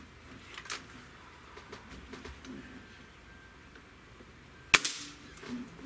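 A Cabela's Gamo air rifle fires a single sharp, close crack near the end, set against quiet outdoor background with faint birds.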